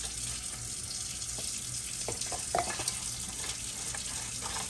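Water runs steadily from a kitchen tap for mixing grout during a kitchen tile grouting job, a continuous splashing wash with a few brief clinks near the end.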